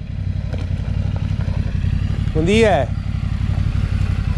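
A Yamaha Ténéré 700 adventure motorcycle arriving on a road, its engine rising in a brief revving sweep over steady outdoor rumble while a man calls out a greeting.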